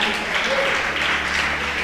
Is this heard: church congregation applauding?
yes